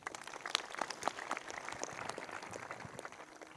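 A crowd at a religious gathering claps together, a steady dense patter of many hands with a few sharper claps standing out, fairly faint and at a distance, with no talking.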